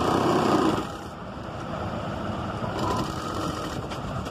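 Sewing machine stitching around a boys' shirt collar, a close, fast mechanical whirring chatter that slows briefly after a louder start, then runs on steadily.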